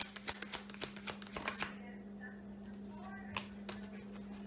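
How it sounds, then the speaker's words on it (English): A deck of playing cards being shuffled, giving a quick run of crisp riffling clicks for about the first two seconds, followed by a few scattered faint taps over a steady low background hum. "Hold on, I gotta shuffle the deck a little bit."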